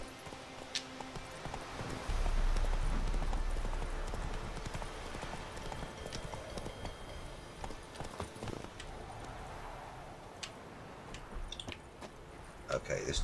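Roach the horse galloping in The Witcher 3, a quick run of soft hoofbeats at moderate distance over a low rumbling ambience, with a voice speaking briefly.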